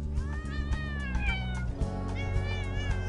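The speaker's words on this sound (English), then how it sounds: "Hey, cat. Hey, cat. Hey, I just wanna pet ya." A cat in a video game meows several times in a row, clear and close, with drawn-out, wavering cries over a low, steady game background.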